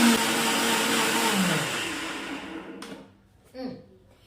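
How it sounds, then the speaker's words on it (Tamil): A mixer grinder jar blending cream to make ghee whirs loudly and steadily, then winds down and stops near the end, followed by a short knock. "அதுதான் இப்ப நான் திருப்பி அரைக்கிறேன்"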